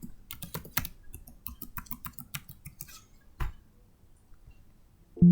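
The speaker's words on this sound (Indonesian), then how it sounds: "langsung saja mengaktifkan aplikasi ini dengan mengetik user dan password yang sesuai" Rapid keyboard typing, a quick run of clicking keystrokes that pauses briefly, one louder tap, then a final clack.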